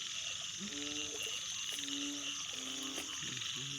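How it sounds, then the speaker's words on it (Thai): Frogs and toads croak from a flooded water spinach field after heavy rain, a steady chorus of repeated, harmonic calls in rhythmic bursts over a constant hum of insects and rain-soaked ambience. "เสียงเขียด"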